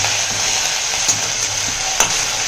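Green chili, ginger and garlic sauté in hot oil with a steady close sizzle, and a spoon scrapes the pan briefly a few times.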